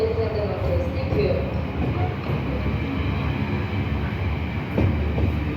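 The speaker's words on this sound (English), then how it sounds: "the train car is literally mooing" An Elizabeth Line train car during a heatwave gives off a low, drawn-out mooing groan over steady rumbling rail noise, with a voice faintly audible in the background.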